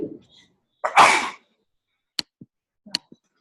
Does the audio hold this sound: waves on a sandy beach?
no